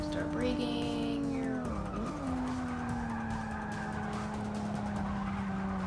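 BMW M235i in the racing game Forza Motorsport 6 braking into a turn: a steady engine drone drops in pitch as the car slows, with tire skidding and squeal layered over it, loud and continuous throughout.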